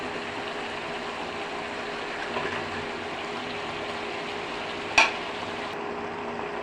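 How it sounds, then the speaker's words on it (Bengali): Green beans and potatoes frying in a pan with ground ginger, garlic, onion and cumin paste, a steady soft sizzle throughout with a few faint scrapes from stirring and a sharp clink near the end. "এখন আমি ভালো করে নেড়ে দিয়েছি।"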